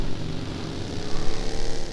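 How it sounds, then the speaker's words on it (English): Propeller aircraft droning overhead in the PUBG Mobile battle royale game, a steady broadband engine hum with slight swells in loudness across the short stretch, no voices over it. "Oh, wait, there is airplane."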